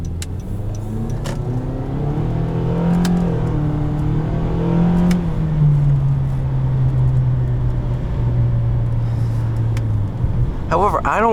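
A 2017 Honda Accord Sport with its four-cylinder engine drives along, a steady cabin drone rising and falling in pitch as it accelerates, with a voice talking over it.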